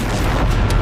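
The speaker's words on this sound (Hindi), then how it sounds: "चंद सेकंड के बाद होता है बड़ा धमाका।" A loud explosion from an attack on an Israeli Merkava tank in Jabalia, a dense, sustained roar of booming low rumble filling the whole moment, close and heavy with no talk over it.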